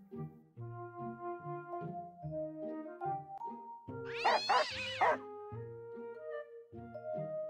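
A single cat meow rises briefly in the middle of a simple tinkling melody that plays throughout, with no speech.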